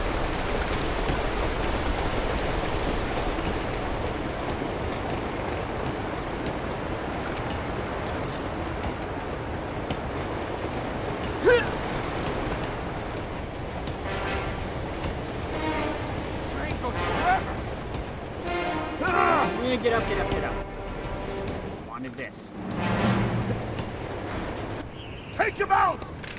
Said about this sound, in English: How big is this train?